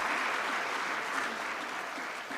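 Sustained applause from an audience at a Tanzanian government ceremony honoring the treasury registrar, steady dense clapping filling the whole stretch with a faint voice or two underneath.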